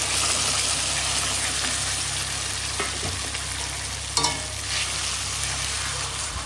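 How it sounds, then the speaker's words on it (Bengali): Ground cumin and coriander frying with browned onion in a hot pan, a steady close sizzle with occasional scraping stirs throughout. "চলো এবারে মশলাগুলো ভালো করে কষিয়ে নিই"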